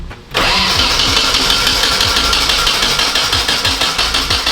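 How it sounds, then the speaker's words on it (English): An engine cranks briefly and then catches, roaring into a loud, rough idle with a steady pulsing rhythm close by. "Take a little bit of fuel out of it, should start."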